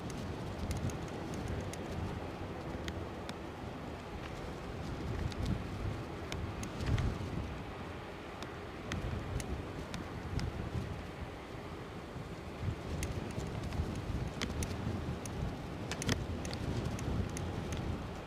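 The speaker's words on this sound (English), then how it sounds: "Wind is definitely picking up." Steady wind rushes and buffets a microphone outdoors at Aberdeen airport, a continuous low roar with faint intermittent ticks and no speech.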